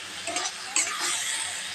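An egg and semolina mixture is stirred in a pot with added water, giving soft, steady scraping and gentle wet swishing with a brief sharper scrape partway through.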